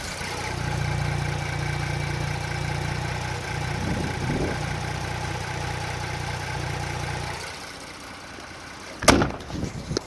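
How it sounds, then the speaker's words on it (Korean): An imported 4WD SUV's engine idles close by with a low hum under an open hood, then cuts out, followed by a sharp clunk near the end. "엔진은 들려드릴게요."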